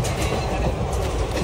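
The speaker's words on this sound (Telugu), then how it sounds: "ట్రైన్ ఫుల్ స్పీడ్లో పోతుంది" The Sabari Express train runs at full speed in a loud, steady rush of rail noise. A dense rumble carries faint clickety-clack from the wheels throughout, with no voices.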